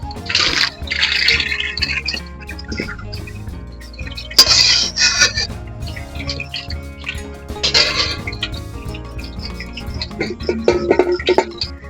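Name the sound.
straining boiled earthworms through a colander, water draining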